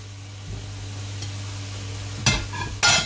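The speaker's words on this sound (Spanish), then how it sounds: "Y ahora es el momento y echarle los champiñones." Mushrooms tipped into a hot frying pan for stuffed aubergines with prawns, a soft hiss under a low hum, then two loud sizzling bursts as they hit the oil.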